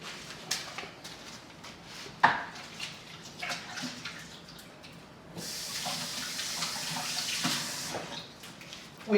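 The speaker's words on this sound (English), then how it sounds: "I'm going to wash my hands real quick." Tap water runs into a kitchen sink while hands are washed, a soft steady splashing that swells midway and carries a few small clicks and knocks, with no talking.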